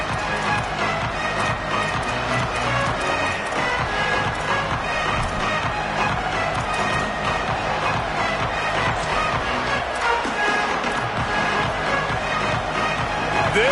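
Football stadium crowd roars in a dense, unbroken wall of noise that stays loud throughout, with faint voices mixed in.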